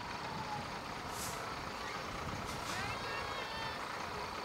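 A fire engine rumbles past at close range in a holiday parade with a steady engine drone, a couple of sharp hissing bursts like air brakes, and background talk.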